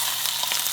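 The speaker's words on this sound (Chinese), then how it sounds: "所以现在你会把它的表面煎一下吗？" A Costco tomahawk pork chop sears in a hot, oiled pan, giving a steady close sizzle with brief louder crackles throughout.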